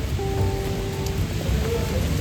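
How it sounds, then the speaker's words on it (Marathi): Steady rain falling outdoors on a city street, a continuous close wash of drops with faint background hum and tones, no talking. "पाऊस अजून बी चालू आहे"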